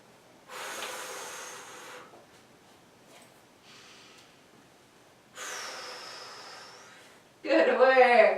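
Deep, audible breaths during a core and pelvic floor workout, a long hissing inhale and then an exhale, repeated twice at close range, followed by a brief voice at the end.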